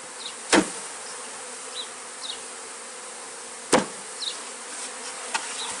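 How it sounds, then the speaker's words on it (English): Honey bees from a beekeeping package buzz faintly throughout, with two loud thumps as the package box is bumped and brief higher buzzes from bees flying close by. "So you just take this box and bump it one time, get the bees off of"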